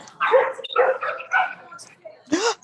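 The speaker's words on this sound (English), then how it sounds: "That lady has like 6 dogs." Several dogs bark and yip in quick, high bursts at close range, mixed with whimpering, while people talk nearby.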